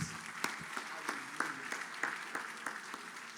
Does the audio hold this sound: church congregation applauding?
yes